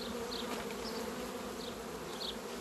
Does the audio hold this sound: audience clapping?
no